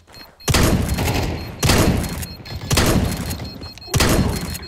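Gunfire in Counter-Strike 2: four heavy, booming shots, each about a second apart, loud and close, with short decaying tails between blasts.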